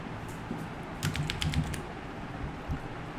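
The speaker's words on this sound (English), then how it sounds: "So go to start and here type screen saver" Short burst of typing on a computer keyboard while searching for screen saver settings, a quick cluster of soft key clicks in the middle over a quiet room, with no speech.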